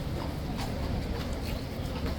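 A King's Guard horse on a city street gives scattered hoof clip-clops, a few sharp knocks standing out from steady, busy crowd and traffic noise.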